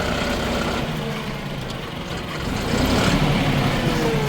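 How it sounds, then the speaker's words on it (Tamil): A John Deere 5075E CRDI tractor runs in second gear while pulling a Lemken Juwel 6M moldboard plough through a field, its diesel engine droning loud and steady and swelling slightly near the end. "அதில் சி செகண்ட் கியரில் ஓடுதுங்க. வண்டி ஒரு துளி கூட அசர மாட்டேங்குதுங்க."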